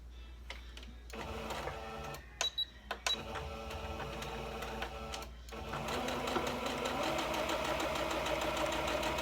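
A sewing machine stitches a 1/4 inch seam in steady, rapid mechanical bursts: a few short starts and stops, then a long continuous run of stitching, close and clear with no talking.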